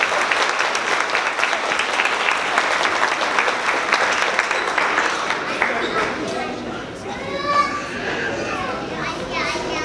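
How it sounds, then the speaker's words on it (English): A crowd applauds at an elementary school fifth-grade award ceremony, loud and dense at first, then thinning out as children's voices and chatter come through toward the end. "One more round of applause for our Achievement Presidential"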